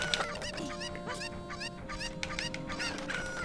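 Cucco chickens in the Zelda Ocarina of Time video game cluck in a rapid, overlapping flock, many squawks stacking over a steady game-music background.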